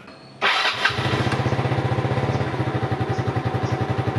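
A Yamaha Mio motorcycle engine cranks and fires up abruptly after a no-start fault, then settles into a loud, rhythmic chugging idle close by.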